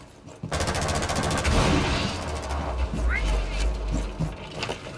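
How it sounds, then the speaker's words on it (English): Enemy gunfire in Rainbow Six Siege during a team deathmatch on Hereford Base: dense, rapid automatic bursts and heavy booms fill the scene continuously, loud and close, with a player's voice talking over them. "they're still shooting at me"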